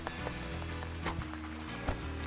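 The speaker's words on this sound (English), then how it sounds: "It's raining." Rain falls in an animated cartoon as a constant soft patter with a low steady drone and scattered brighter splashes, moderately faint.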